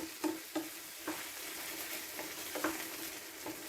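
Spoon stirring a thick Mathanga Kaya Erisseri gravy of pumpkin and raw banana mixed with roasted coconut in a pan, soft scraping strokes repeating at uneven intervals over a faint steady sizzle.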